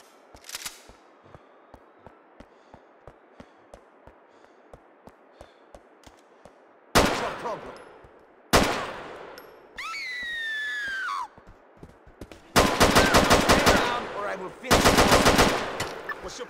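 Video game gunfire: a steady run of single shots crackles along, then loud bursts of automatic fire come and go, mixed with a siren-like wail and other game sounds.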